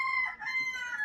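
A rooster crows once, a short, bright, strained call with a wavering tone, moderately close and fairly quiet, with no talking.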